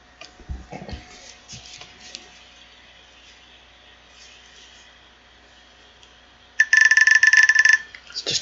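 A mobile phone rings in a short, loud electronic burst of repeated trilling tones near the end, after a stretch of faint clicks and low background sounds.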